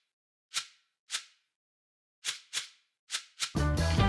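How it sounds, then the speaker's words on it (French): A shekere, a Latin percussion gourd rattle, gives six short, sharp rattling strokes in an uneven rhythm against silence. A loud music track then kicks in. "Il s'agit d'un tchékéré, une percussion latine, et ça sonne comme ça."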